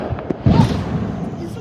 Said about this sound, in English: Oh, there's some other fireworks you might hear some loud noises.